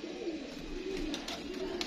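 A Lakha pigeon sitting on a net gives low, soft coos close by, faint and continuous over a quiet background, with no talk.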